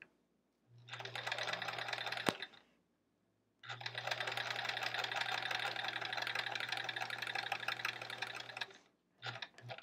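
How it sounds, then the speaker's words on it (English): A sewing machine stitches quilt block pieces for a flying geese block, running in two steady bursts of rapid, even whirring with a short pause between and a brief final run, close and alone. "So I'm sewing directly on that line, actually just a hair to, to the outside edge here."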